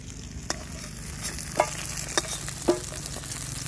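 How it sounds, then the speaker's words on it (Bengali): Bata fish fried crisp in oil, with a steady sizzle running under several sharp utensil clacks as pieces are turned and lifted out. "মাছগুলো আমি কড়া করে ভেজে নিয়েছি নামিয়ে দিচ্ছি"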